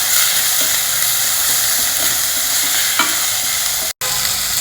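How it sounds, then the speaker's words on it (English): Onion and a ripe red tomato fry and get stirred in a pan, giving a steady close sizzle with scraping spoon strokes and a brief cutoff near the end. "When the onions turn a bit translucent, I am adding 1 ripe red tomato. Fry this also well."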